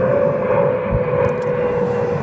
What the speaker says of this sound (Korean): 계속 비행기가 날아다니고